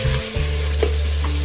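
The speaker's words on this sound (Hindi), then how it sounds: "बस हमने इसको अच्छी तरह से 1-2 मिनट के लिए इसको भूनना है।" Cauliflower and ginger stir-frying in a pan for gobhi gosht, a steady close sizzle with a brief stirring scrape.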